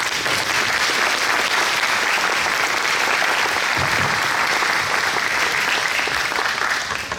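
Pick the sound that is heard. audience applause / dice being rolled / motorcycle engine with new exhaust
audience applause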